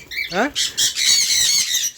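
Pet birds fighting in a cage squawk in a few harsh, shrill bursts over about two seconds, close and loud, with a voice calling out over them.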